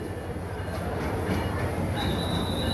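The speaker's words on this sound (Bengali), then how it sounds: "মহানগর এক্সপ্রেস ট্রেনটি ব্রাহ্মণবাড়িয়া রেল স্টেশনে প্রবেশ করছে" Mahanagar Express pulled by a Korean Hyundai 3000 series locomotive entering Brahmanbaria railway station, a steady rumble of rolling wagons with a thin wheel squeal rising near the end, close and continuous, no talk.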